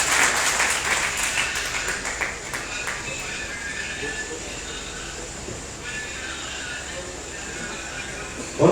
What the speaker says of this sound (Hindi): जोरदार तालियां उनके लिए एक बार।